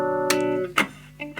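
An Epiphone Les Paul Gold Top on both pickups, fed into a Vox AC4TV, lets a held chord sustain and then hits a few sharp strums or pick attacks, close and moderately loud, with no talking.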